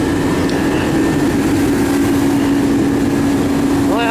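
A 1948 CJ2-A jeep engine idles steadily and running rich, a continuous close drone with a low hum throughout, and a brief rising whine near the end.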